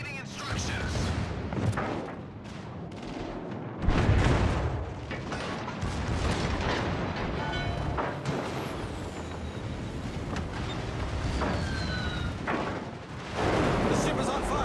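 Warship guns fire in a naval battle game, heavy booming salvos rolling out one after another over a constant engine rumble, loud and close.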